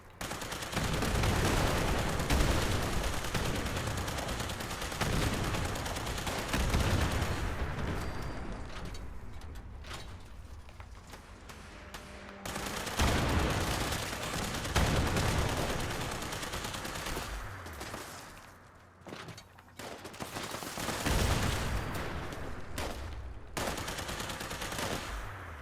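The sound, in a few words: explosive Tesla rifle firing in video game Fallout 76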